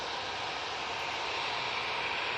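An easyJet airliner at Manchester Airport gives a steady, even engine roar of broadband noise that holds unchanged for a couple of seconds, moderately loud with no voices.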